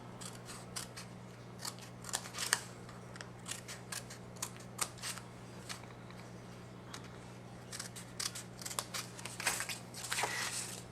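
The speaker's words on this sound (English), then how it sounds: "cut along the long inches into the fold line on each of the tabs." Scissors snip through card along fold lines on the tabs of a pizza-box-style card envelope, a quick series of close, crisp cuts with short pauses between them over a steady low hum.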